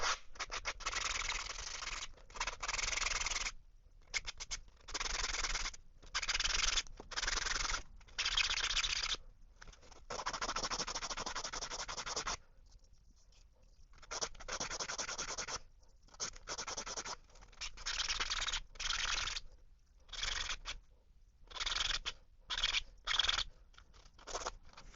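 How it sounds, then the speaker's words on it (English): A 3D-printed fishing bait is rubbed with fine sanding blocks in short, repeated bursts of close, soft scratching separated by brief pauses, steady and quiet with no talking. "I'm actually going to go finer with our well-known sand blocks."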